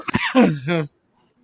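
A short, close throat-clearing cough in a few rough bursts that slide into a voiced grunt, then silence.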